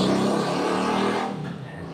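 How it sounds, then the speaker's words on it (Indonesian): A motorcycle engine drones loudly and close by, a steady rumbling roar that eases and thins out toward the end. "suara motor"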